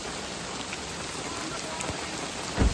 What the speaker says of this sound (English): in the morning, the rain did not let up.